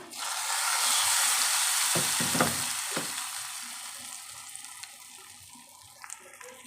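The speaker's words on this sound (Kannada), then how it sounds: "ಈ ಒಗ್ಗರಣೆ ದಾಲ್ಗೆ ಹಾಕೋಬಿಡೋಣ" Hot tempering poured into a pot of moong dal with spinach gives a loud, steady sizzle and frying crackle, with a few sharp clinks from the pan partway through, fading gradually as the sputtering settles.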